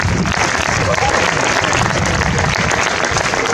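Loud, dense audience applause at a stand-up comedy monologue contest fills the room continuously, with a few voices and cheers mixed into the clapping.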